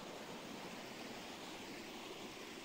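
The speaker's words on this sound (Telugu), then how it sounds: "ఇది చూడండి వాటర్ ఫాల్స్" Waterfall near Hyderabad flowing with a constant soft broadband rush, fairly faint and steady, without voices.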